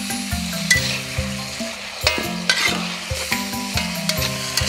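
Preserved olive vegetables and red chili rings stir-fried in a wok, steady close sizzling with rhythmic scraping of a spatula against the metal, no voices.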